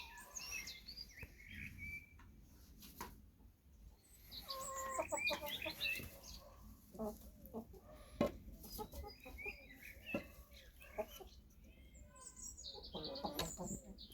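Chickens clucking and murmuring close by, several birds overlapping in soft irregular bursts, with faint chirps in the background.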